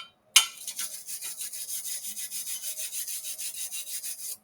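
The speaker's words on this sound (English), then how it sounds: "So I take a wire brush to it, clean it off" A wire brush scrubs slag off a rough stick weld on steel. After one sharp strike, brisk back-and-forth rasping strokes repeat in a fast, even rhythm, close and alone.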